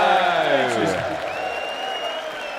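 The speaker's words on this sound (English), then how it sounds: "Ironic cheers from the Saarbrücken crowd" Darts crowd in Saarbrücken letting out ironic cheers and applause at a tournament, a brief burst of clapping and whooping that fades while a voice comes through.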